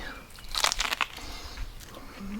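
Someone bites into a raw ear of super sweet corn, a couple of crisp, close crunches with juicy snaps, followed by quieter chewing.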